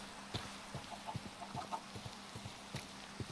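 Blocky Minecraft chickens in a farm cluck in short, soft bursts, several quick clucks spaced irregularly over a quiet background, faint and with no talk.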